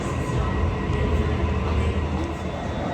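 A Sydney train pulls into a station platform with a loud, steady rumble of wheels and carriages. The sound is broad and continuous throughout, with no clear voices over it.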